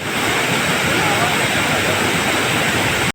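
Pradhanpat waterfall in Deogarh, Odisha, swollen after days of rain, roars loudly and steadily as a dense, unbroken rush of falling water heard close by, cutting off abruptly at the end.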